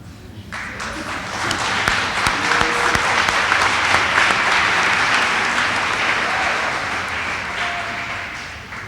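Sustained crowd applause at a university winter commencement, honoring the graduates' families; steady, dense clapping that rises quickly and holds, tapering slightly at the end, with some voices in the mix.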